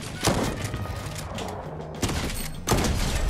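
Gunfire rings out in Fortnite: several sharp bursts, each with a loud crack and a trailing tail, against a background of game music and clatter, with distant shots between them.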